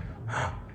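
A single noisy gasp of breath drawn in through the mouth, close and fairly soft, swelling and fading within a second.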